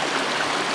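Clear mountain stream water rushing steadily from a seven-tier waterfall on a trek, a close, constant broadband wash with no pauses and no voices.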